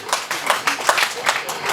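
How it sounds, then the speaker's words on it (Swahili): A church congregation claps their hands together in a quick, uneven burst of applause, close and lively, with a voice over it. "Tumjipie makofi na wewe"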